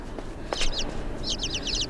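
Sparrows chirping in the video game Inside, a quick burst of high twittering notes followed by a rapid run of chirps, faint against low background ambience.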